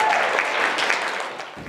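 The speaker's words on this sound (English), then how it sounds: "Can I get a round of applause?" A room full of people applauding at the Wingo Binglow event, continuous clapping that tapers slightly toward the end.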